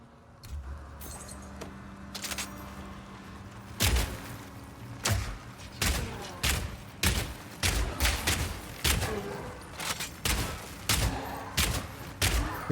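Grenades bursting in Path of Exile 2, a quick series of sharp explosive cracks and thumps in irregular rhythm over a low combat rumble, fairly loud and close.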